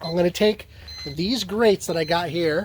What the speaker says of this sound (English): That's just my alarm going off to tell me that my